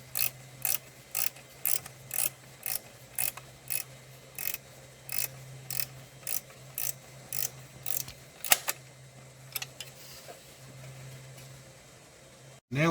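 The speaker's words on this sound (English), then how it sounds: "Now we've got the fan tightened up" A ratchet tightening the fan on a Kubota BX HST tractor, with about twenty rapid regular clicking bursts in a steady rhythm that slows and thins toward the end over a faint background hum, no speech.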